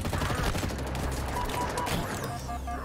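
Rapid bursts of assault rifle fire from the Halo Infinite video game crackle through as a dense, continuous volley at moderate level, with game effects mixed in.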